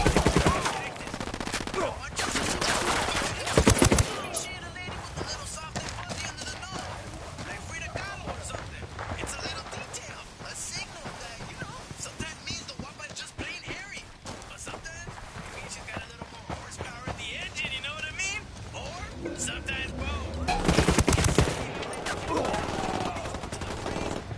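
Rapid gunfire bursts and single shots from a PS4 shooter game crackle continuously under someone talking, with louder clusters of shots near the start and toward the end.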